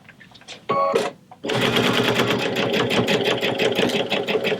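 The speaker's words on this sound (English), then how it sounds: "If it can sew through 2 layers of Minky and 2 layers of batting, it'll do anything pretty much." A Solaris Vision sewing machine stitches through two layers of Minky fabric and two layers of batting, a loud, fast, even mechanical whirring with rapid needle clatter after a brief start-stop burst.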